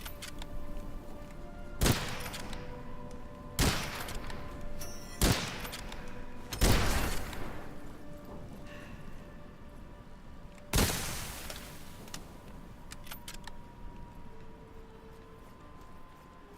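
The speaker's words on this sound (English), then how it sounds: "This takes entirely too many bullets to shoot this man." Gunfire from shooting an enemy in the video game Witchfire: about five sharp, loud shots spaced a couple of seconds apart, each cracking out over a steady low game ambience, with no talking.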